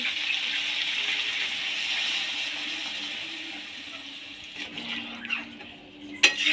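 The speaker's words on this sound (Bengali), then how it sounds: "এবার আমি সেদ্ধ হওয়ার জন্য জল ঢেলে দেবো" Water poured into a pan of potato posto curry, giving a steady hissing pour that tapers off into a few light splashes and clinks near the end.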